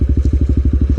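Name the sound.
metallic rattling of a motorcycle heat shield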